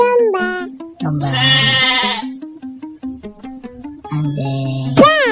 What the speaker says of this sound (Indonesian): domba. Domba.